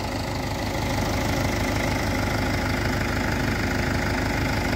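A Mahindra 585 DI tractor engine runs steadily on a farm field prepared for harrowing, a loud, close, continuous diesel chugging with a knocking idle beat and no talking.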